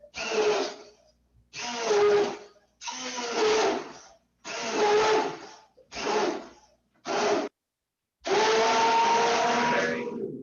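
Immersion blender pureeing sauce in a pot, running in about seven loud bursts of whirring with short pauses between, the last burst held longest; no talk over it.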